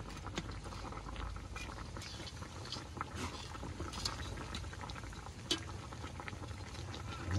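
Fish soup bubbles in a pot on the boil, a quiet steady simmering patter with small pops scattered throughout, close up and without talk.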